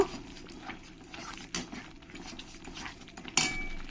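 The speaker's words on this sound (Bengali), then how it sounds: "গুঁড়ো মশলা জিরের গুঁড়ো ধনের গুঁড়ো আর মৌরির গুঁড়ো দিয়ে ভালো করে একসঙ্গে মিশিয়ে নেব" Ground cumin, coriander and fennel are worked into chicken with curd, giving scraping and clinking of a spoon against a metal bowl in irregular strokes, with a few sharper knocks; a voice speaks faintly at times.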